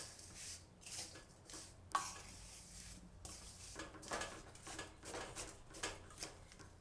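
Ragi ladoo mixture is worked by hand with ghee, giving faint, soft rustling and squishing strokes that repeat in an irregular rhythm over a quiet background.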